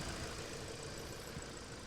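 A Kia K5 gasoline engine idles quietly, a faint, even low hum with a soft steady texture and no speech.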